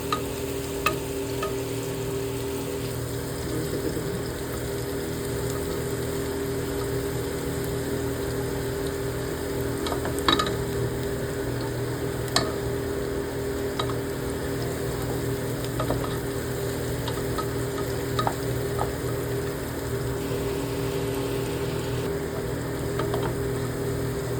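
Onion frying in a pan for khichdi, cooking toward golden brown: a steady, even sizzle with a constant hiss throughout and a few faint stirring clicks.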